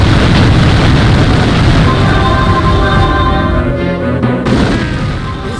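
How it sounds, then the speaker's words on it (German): Booming blasts and crackling gunfire fill the Magic Carpet video game, loud and dense, with rolling explosions layered under sustained shooting and a brief ringing tone near the end. "Hört aber auf, mich zu schießen."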